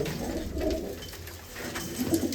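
Pigeons coo nearby in low, soft rolling calls, two bursts of throaty cooing separated by a brief lull, with no talking.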